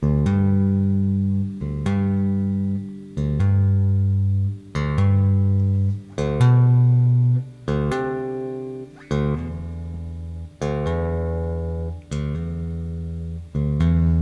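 Guitar notes picked in a steady series of about ten, each attack followed by a quick pulled-off second note, clear and close with no talking.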